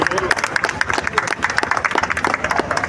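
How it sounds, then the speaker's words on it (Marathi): An audience applauds at an Independence Day (15 August) celebration in Colaba, a dense, lively patter of many hands clapping with a voice talking over it. "जोरदार टाळ्या वाजवाव्या सर्वांनी"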